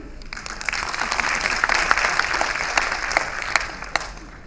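An audience at a cultural conference hall applauds steadily, with a dense wash of clapping and a few sharper individual claps standing out.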